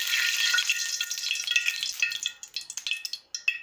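Hot oil sizzles in a pan, heated for frying eggplant, a bright crackling hiss that starts dense and breaks into sharper spitting pops toward the end, close and with no talk.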